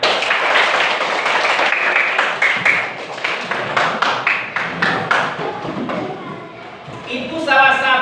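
A classroom of children clapping together in scattered, irregular bursts at an elementary school coding lesson, the applause fading and then picking up again.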